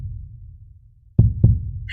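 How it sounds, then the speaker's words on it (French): A human heartbeat, a mother's carrying a child, sounds as two deep, soft thumps in quick succession after a muffled low rumble. "Écoute ce battement de cœur."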